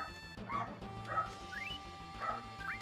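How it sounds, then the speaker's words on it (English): Dogs bark and yip faintly in the background, a few scattered short calls spread across a few seconds, under a low steady hum. "the dogs are barking"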